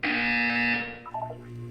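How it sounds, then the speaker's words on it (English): A loud, harsh electronic buzzer from the video game Portal 2 blares in one sustained tone for most of a second before cutting off, followed by a faint low electronic hum. "You will hear a buzzer."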